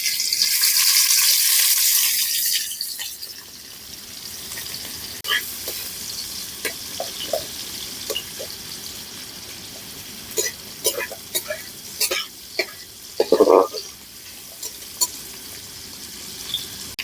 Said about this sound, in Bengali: ওতে তেল দিয়ে দেব। গরম হয়ে গেছে, পেঁয়াজটা দিয়ে দেব।